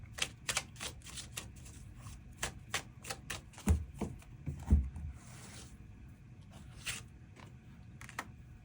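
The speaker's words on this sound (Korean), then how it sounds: "그 부분 추가 카드 뽑아보도록 하겠습니다" Tarot cards shuffled and drawn at close range: a rapid burst of crisp riffles and taps, then a few heavier thuds and sparser flicks as cards are pulled, with no voices.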